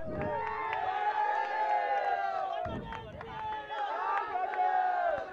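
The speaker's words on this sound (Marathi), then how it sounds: "या संघासाठी जोरदार टाळ्या होऊन जाऊ द्या" A crowd cheers and claps loudly at a prize ceremony for a village tournament cup in Golegani, a dense, continuous roar with shouts and whistle-like cries rising and falling across the whole stretch.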